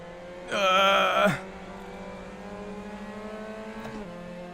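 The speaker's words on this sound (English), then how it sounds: "there goes the entire gaggle of cars" A pack of Mazda MX-5 Cup race cars roars past in a loud, brief burst of high-revving engines, then the sound falls back to a steady lower drone from the distance with a fainter rise near the end.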